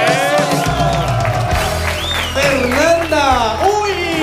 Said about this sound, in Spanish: Aplausos ahora para Fernanda